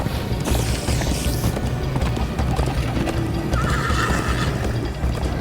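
Horses gallop and neigh in Minecraft Story Mode, a loud continuous rush of clip-clopping hooves with a couple of whinnies rising above it, close by with a dense, busy game mix underneath.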